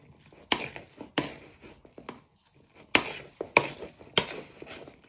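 Meatloaf mixture is worked and squished by hand in a bowl, making a series of wet, slapping bursts in two clusters with brief quiet gaps between them.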